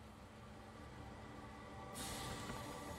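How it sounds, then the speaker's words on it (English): A bus engine in the video game Everlasting Summer runs with a steady, low, faint rumble that thickens into a fuller hiss and drone partway through, with no voices over it. "The sound of the engine brought me back to reality."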